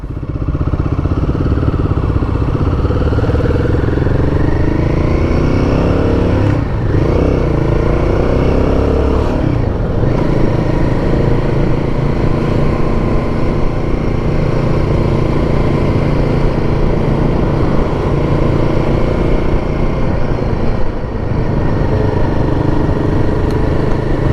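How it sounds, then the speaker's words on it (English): A motorbike rides close behind a Royal Enfield Guerrilla 450 on a road with a 50 limit, its engine drone blending into loud, continuous wind and road rumble throughout, with no talk. "So I have some geezer on a motorbike behind me"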